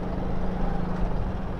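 A Honda Click 125i scooter fitted with a T4S aftermarket exhaust rides slowly in traffic, giving a steady, close, low exhaust drone mixed with wind rumble over a short stretch.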